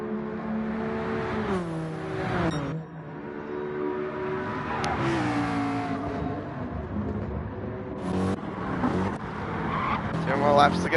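Race cars in a racing video game feature race on the Seaside Dragon Trail circuit, engines droning and shifting pitch with tire squeal, heard under a commentator's continuous talk.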